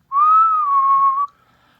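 A person whistles one sustained, slightly wavering tone lasting about a second, close and clear, imitating a whistle heard in the woods at night.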